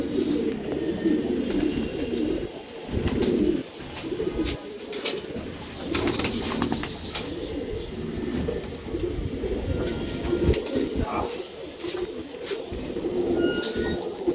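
Pure old-bloodline male pigeons at a hobby loft coo in low, repeated throaty murmurs throughout. Steady faint background noise runs underneath.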